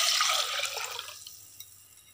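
Tamarind water is poured into a pot of rasam made with lentil cooking water, giving a brief splashing liquid pour that fades out quickly into near silence.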